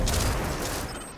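Ether tanks blowing up on a rooftop in Destiny 2, a dense rumbling burst of explosions that fills the clip with loud low-end booms and crackle, fading slightly toward the end.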